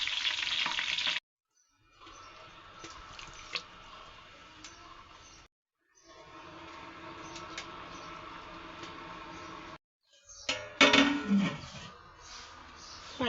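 Onions frying in a pan for pulao, sizzling steadily and close with scraping stirs, broken by brief silences and a louder sputtering burst near the end.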